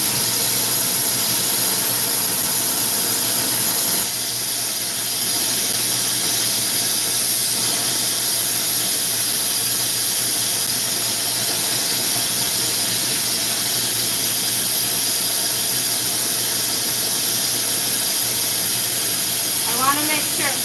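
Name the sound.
glassblowing torch flame melting glass frit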